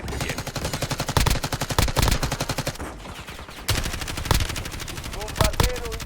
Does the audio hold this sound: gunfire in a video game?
yes